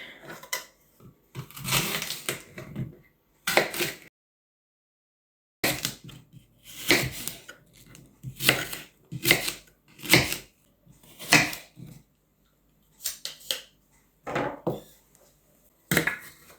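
A knife chopping an apple on a board for porridge, making quick runs of crisp, rapid taps in short bursts separated by brief pauses and a longer silence, close and clear.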